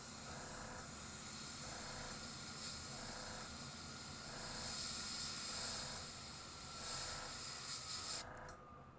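Airbrush spraying paint through a stencil onto a yellow perch fishing lure, producing a continuous close hiss with gentle pulsing swells across the whole stretch that cuts off abruptly near the end.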